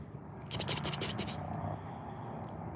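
A tiger-striped cat scratches at its face, producing a rapid burst of rhythmic scratching strokes lasting about a second, close by and moderately loud against quiet outdoor background.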